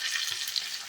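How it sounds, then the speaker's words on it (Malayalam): Dried red chillies sizzling in hot oil for a Valluvanad-style kalan tempering, after mustard seeds, with a steady bright crackle and hiss close by, alone and without pauses. "മുളകിട്ടു."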